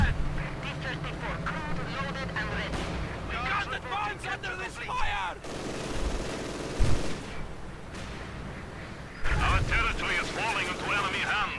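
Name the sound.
gunfire from tanks and infantry in a video game battle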